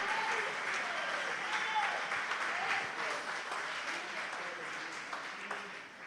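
Congregation applauding during a church sermon, sustained clapping from a crowd that swells and then gradually fades, moderately distant.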